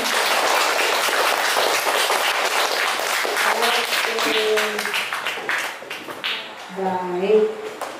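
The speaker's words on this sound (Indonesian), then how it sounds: "Tepuk tangan dong." Audience applause at an Indonesian police narcotics-awareness talk: a steady, dense clapping from a crowd lasting several seconds, with a few voices rising briefly over it near the end.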